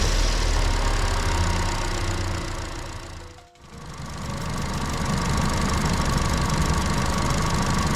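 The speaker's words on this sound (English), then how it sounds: "Starting to idle a little bit more rough." A Chevrolet Sonic engine idles roughly up close, a loud uneven rumble with knocking pulses that briefly drops out and then resumes.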